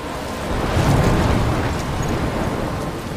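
Thunderstorm in the video game Life is Strange: Before the Storm, with a deep rolling rumble of thunder swelling near the start and a steady wash of rain and wind continuing throughout.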